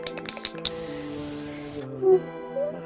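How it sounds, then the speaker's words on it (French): Dye penetrant sprayed from an aerosol can onto a metal part for non-destructive crack inspection: a broad hiss of short bursts, then a sustained spray that cuts off abruptly, followed by a few faint clicks. No one speaks. "je vais appliquer ce qu'on appelle un pénétrant, qui va aller dans toutes les aspérités de la pièce"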